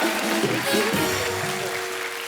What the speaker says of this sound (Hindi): सनी के लिए जोरदार तालियां।